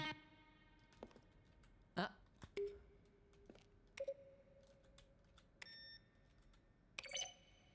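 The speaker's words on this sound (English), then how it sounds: "Each sound is a mix of keyboard, stroke, and a synthesized tone." Video game button presses in a Stanley Parable office setting: sharp keyboard-stroke clicks, each blended with a short synthesized beep or sustained tone, sounding one at a time at irregular intervals against near silence.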